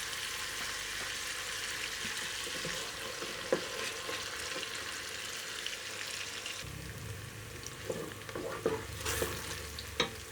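Onions browning in a pan for a village-style moong dal, a constant soft sizzle and hiss with occasional stirring scrapes and clicks, louder frying toward the end, no talking.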